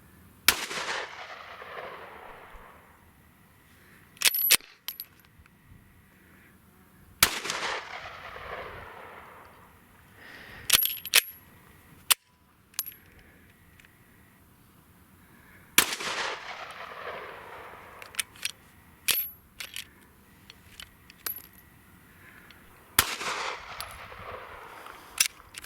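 Various handguns fired with a loosely held, limp-wrist grip outdoors: loud sharp single shots spaced several seconds apart, each followed by a rolling echo, with faint clinks between them.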